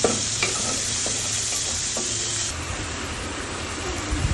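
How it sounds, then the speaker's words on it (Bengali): Fish frying in hot oil on a stove, a dense, even sizzle with a few light clinks and scrapes, close and steady, no talking. "আর তোমার ওই চুলায় মাছ ভেজে নিচ্ছি"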